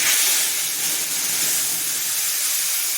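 Ground spice paste hits hot oil left from frying rui fish, giving a loud, continuous hissing sizzle that stays even and close throughout with no talk.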